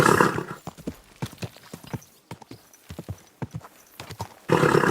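Horse hooves clip-clop in a quick trotting rhythm on a hard surface in the video game Kingdom Come: Deliverance II, close and distinct, with a burst of louder noise at the start and end.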